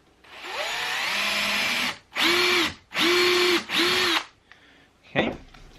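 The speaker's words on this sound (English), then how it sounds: "I'm going to pre-drill to make sure that this doesn't crack the wood." Power drill pre-drilling a hole in wood: a long whirring run followed by three short bursts of the motor spinning up and stopping, loud and close, then a brief click.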